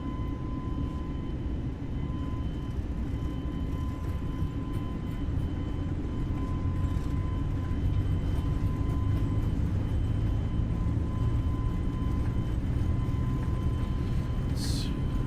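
Airbus A320neo jet engines at takeoff power on a charter flight from Regina to Edmonton, heard from inside the cabin as a steady, loud broadband roar with a faint constant tone, unbroken for about fifteen seconds.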